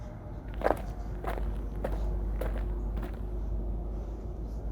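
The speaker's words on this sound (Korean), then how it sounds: "무슨 발소리 같은 거 들려" Footsteps in an abandoned school: several slow, distinct steps on a hard floor, evenly spaced over a steady low hum, moderately close with no talking.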